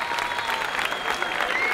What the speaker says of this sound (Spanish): ¡Aplausos, Río Quilombo, gente!